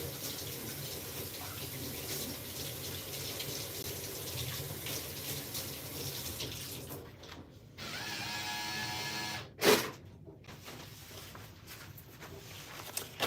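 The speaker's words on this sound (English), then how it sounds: "Rinse your hands and arms thoroughly." Tap water runs in a steady hiss while hands and arms are rinsed at a sink, shifting in tone as the stream is interrupted, then ending with a brief clunk.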